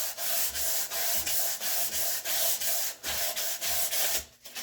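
A hand scraper takes sharp edges off a wooden spice rack in rapid, rhythmic rasping strokes, about two per second, close and crisp with short pauses between passes.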